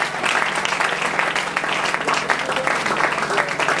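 A church congregation at a worship service breaks into dense, sustained applause, many hands clapping together loudly and continuously, with faint voices mixed into the crowd noise.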